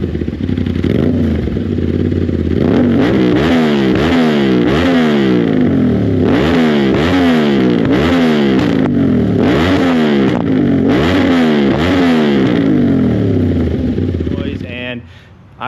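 An Aprilia RS660 fitted with an SC Project S1 exhaust rides along a country road, its loud, raspy engine revving up and down through repeated gear changes for about fifteen seconds before cutting off abruptly at the end.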